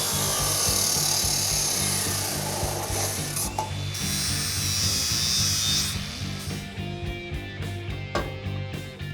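A steel roll bar tube is cut at an angle for a car frame, producing a steady, harsh grinding and whirring with mechanical rattling underneath, close and loud throughout and slightly easing toward the end, with no talking.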